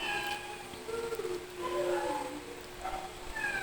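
A hungry cat meows repeatedly in a quiet indoor space, its short rising and falling calls spread over a few seconds against a faint background hum.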